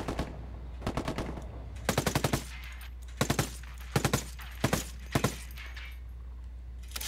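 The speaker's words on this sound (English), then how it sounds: "That stoner machine gun's a piece of junk" Stoner machine gun in Ghost Recon Wildlands firing in sharp, close bursts of three to five rapid shots, separated by short pauses over a low steady hum, with no talking.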